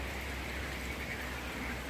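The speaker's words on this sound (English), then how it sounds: "it's raining anyway" Rain falls on a tent in a steady, dense hiss with no gaps, fairly soft, and no voices.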